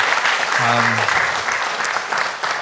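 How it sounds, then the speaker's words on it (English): A crowd at a general election hustings applauds, giving loud, sustained clapping that fades slightly toward the end, with a brief voice audible underneath early on. "just give everybody a really hearty thanks with a round of applause"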